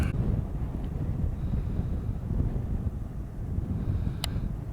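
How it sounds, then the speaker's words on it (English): Strong wind buffets the microphone on a shoreline, a steady low roar that runs unbroken throughout, with no voices. "It's quite a bit of wind, as you can tell."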